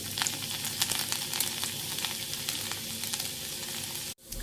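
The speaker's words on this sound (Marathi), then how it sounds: "तेल गरम झालं आता लसण टाकू" Steady crackling sizzle of garlic frying in hot oil with cumin, close and continuous, cutting out briefly near the end.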